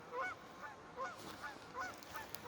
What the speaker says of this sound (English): There go the geese. They're gonna honk away.